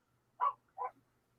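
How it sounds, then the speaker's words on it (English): A small dog gives two quick barks in the background, faint and distant over a low quiet hum, then goes silent. "Who is the cutie barking in the background?"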